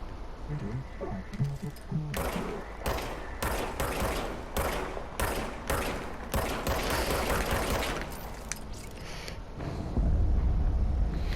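In the video game Control, the player's alien-style self-recharging gun fires in rapid bursts of loud, close shots. The bursts repeat with short gaps, over a low rumble from the game.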